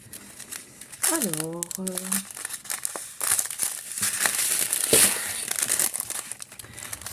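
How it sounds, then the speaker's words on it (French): Packing paper crinkles and rustles in bursts during an unboxing alongside a person talking, the crackling rising and falling over several seconds. "c'est le papier qui fait le bruit là"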